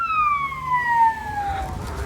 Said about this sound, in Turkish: Ambulans acı acı geçiyor.